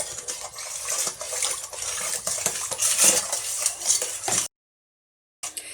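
A spoon stirring a handmade soap mixture scrapes and clinks repeatedly against the side of a bowl in quick, uneven strokes, close up, then stops abruptly before briefly resuming.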